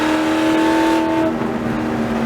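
A C5 Corvette race car engine holds a loud, steady high-revving tone on track during a long endurance race at Barber Motorsports Park, close and sustained before easing slightly.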